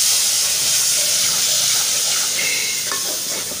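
Water poured onto semolina roasting in a hot pan sets off a loud, steady, close hiss of sizzling steam that continues for several seconds with no one talking.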